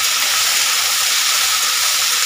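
Chopped konka greens stirred in a hot pan give off a steady, loud hiss of steam and sizzle, close and unbroken, with no talk.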